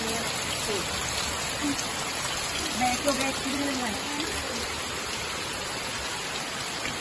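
Steady rain falls outside a house, a constant close hiss of drops on surfaces, with faint indistinct voices drifting in beneath it.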